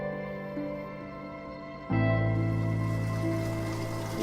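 Spring water runs steadily out in the country, a soft continuous trickle that suddenly swells into a louder, fuller splashing rush partway through and holds there.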